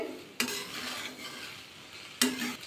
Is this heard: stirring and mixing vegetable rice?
yes